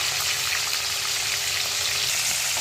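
Foli fish fries in a pan of hot oil, a close, loud, continuous crackling sizzle with no talk over it.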